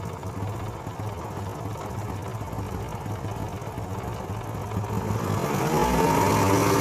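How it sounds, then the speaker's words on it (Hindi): A motorcycle engine idles at low RPM during carburetor tuning, a steady low drone, then revs up toward the end and grows louder and higher as the RPM is raised. "अब ये दोस्तों स्लो आरपीएम पे मोटर बाइक है। अब हमने इसकी आरपीएम को बढ़ा देना है।"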